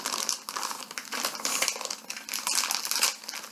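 Crinkly plastic packaging is crumpled and torn in continuous rustling bursts, close up, with no talking.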